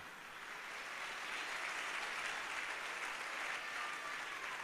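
A seminar audience applauds steadily, a dense even wash of many hands clapping that holds at a constant moderate level throughout.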